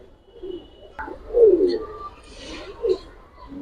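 Pigeons being sold in pairs at a bird market give a few soft, low coos, with a louder pair of calls near the middle and another near the end, amid faint background noise.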